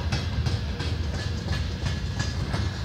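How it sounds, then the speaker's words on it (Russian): A VL80T electric locomotive hauling freight wagons rumbles past nearby, steady and loud, its wheels clacking rhythmically over the rails throughout. "как проедет поезд"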